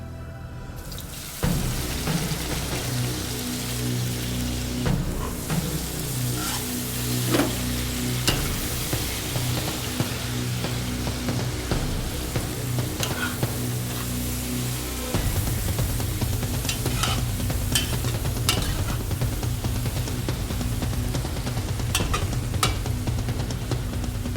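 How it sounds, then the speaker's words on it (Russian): Onions sizzle and crackle hard in well-heated oil inside a kazan, a loud, continuous frying hiss with occasional stirring scrapes and pops. "Лук обжарится очень быстро, и это важно."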